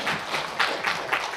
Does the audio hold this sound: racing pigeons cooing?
no